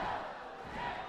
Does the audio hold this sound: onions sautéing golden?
no